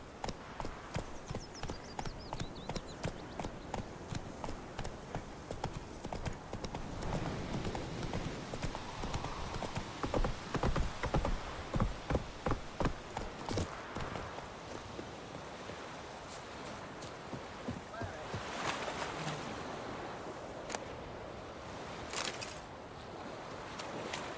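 A horse galloping in The Witcher 3, with steady rhythmic hoofbeats on the ground that run throughout, close and fairly loud, while wind and ambient game sounds fill the background.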